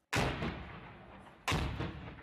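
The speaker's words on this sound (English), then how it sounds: "Only gunshots ring out." Two sharp, booming gunshots a little over a second apart in Raqqa, each leaving a long echoing rumble that fills the silence between them.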